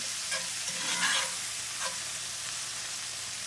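Salt and pepper are stirred into salmon searing in an iron skillet with herbs. A steady sizzle runs throughout, with a few soft scraping stirs near the start.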